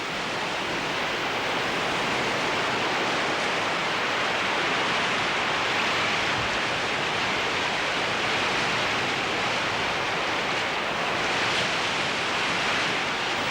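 Ocean breakers crash on a Chilean Lafken Mapu shoreline where seaweed is gathered, a dense, continuous roar of surf that stays loud and steady with no pauses.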